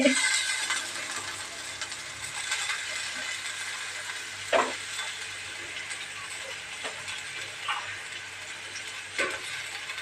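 Sliced onions frying with salt in a pan in a home kitchen give a steady, moderately faint sizzling hiss, broken by a few brief clatters from stirring.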